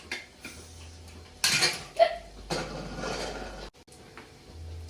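A large pressure cooker of cooked rice for chicken biriyani is opened, with metallic clanks and rattles of the lid and a brief hiss, close by and without talking.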